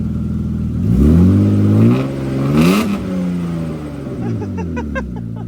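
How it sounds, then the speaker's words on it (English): A car engine revs up and settles back a few times, loud and close, its pitch rising and falling with each press of the throttle. "Give it a couple revs."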